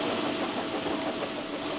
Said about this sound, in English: Duck had to haul a train of flour trucks to market.